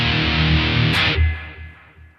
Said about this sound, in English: Perhaps the most obvious component of the metal guitar sound is distortion